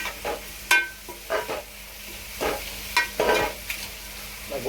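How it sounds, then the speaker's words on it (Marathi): Finely chopped onion frying in oil for a restaurant-style gravy, with several separate stirring scrapes and clinks against the pan over a soft sizzle, close by, no voices. "गोल्डन ब्राऊन होईपर्यंत आपण याला फ्राय करून घ्यायचं आहे चांगल्या प्रकारे परतून घ्यायचा आहे"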